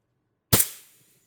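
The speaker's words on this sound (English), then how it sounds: "I think I had a little bit of an auto fire event right there" A single sharp shot from an IntruBuster Gen 2 launcher fitted with a Titan IB-2 drum magazine, cutting in abruptly from silence and then fading in a short decaying tail, close and fairly loud.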